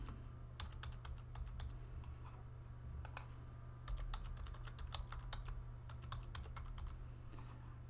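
Fingers type a password on a computer keyboard, producing quiet, close key clicks in uneven bursts, with short pauses between runs of keystrokes, over a low steady hum.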